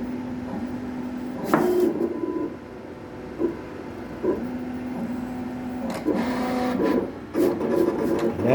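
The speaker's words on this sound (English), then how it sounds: "We're just scanning our registration marks right now so the cutter knows exactly where to cut." A Summa decal cutter moving its head across a full sheet to read registration marks, a steady motor hum broken by short whirring bursts and clicks as the carriage starts and stops, close and clear.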